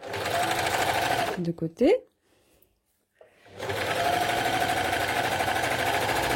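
An overlocker serges the side seams of a T-shirt, running loud and steady, then stopping briefly for a few seconds of near silence with a short word spoken, before starting up again at full speed.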